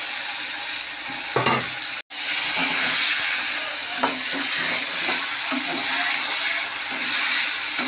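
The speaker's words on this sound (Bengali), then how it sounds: "এবার এখানে আমি আলুগুলো দিয়ে দিচ্ছি" Potatoes fry in hot oil for a Bengali katla fish kalia, giving a steady loud sizzle and hiss broken by a few stirring scrapes and one brief cutout.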